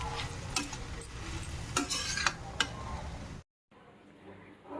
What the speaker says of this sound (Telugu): క్యారెట్ అయితే వేగుతుంది, ఇంకా వేయించుకోవాలి.